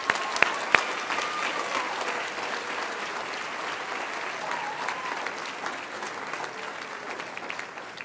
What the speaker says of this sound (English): I'd like to give an extra big round of applause for percussionists tonight